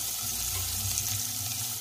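Soft, steady sizzle of paneer frying with masala in a pan, a faint continuous hiss with low bubbling underneath, heard alone without talk.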